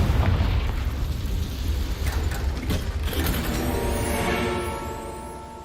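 Confringo fire spell explosion in the video game Hogwarts Legacy, a heavy booming blast with crackling debris that rolls on loudly and fades over several seconds.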